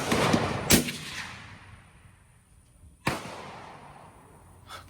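Two loud rifle shots from a Savage Axis Pro chambered in .25-06 at an outdoor range, the first near the start and the second about two seconds later, each a sharp crack with a ringing decay, and a faint third report at the very end.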